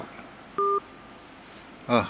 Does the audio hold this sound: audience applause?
no